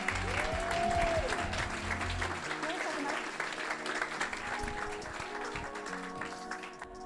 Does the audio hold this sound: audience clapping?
yes